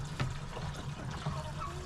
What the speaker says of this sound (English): spilling water everywhere like I'm doing right now